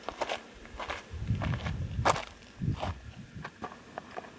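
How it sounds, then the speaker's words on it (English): Slow, unhurried footsteps crunch on the ground outdoors, each step distinct with a relaxed, even pace and no voices. "our footsteps provide the foundation for the entire soundtrack, they can't sound rushed or anxious"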